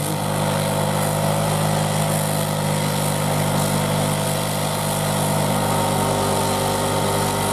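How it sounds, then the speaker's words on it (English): A snow machine engine drones loud and steady while climbing a snowy hill, a constant high-revving buzz close by with no talk. "Don't blow the engine, Jeff."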